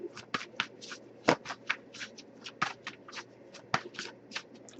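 A tarot card deck being shuffled by hand: a quick, irregular run of crisp riffling bursts and soft slaps, close and clear, with no talking.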